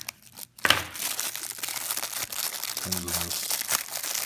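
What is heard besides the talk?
crinkling cellophane bag from vape device packaging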